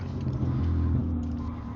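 An old BMW drift car rolls back into the pit lane after its second lap, its engine a steady, close rumble with a slight rise in revs and no voices over it.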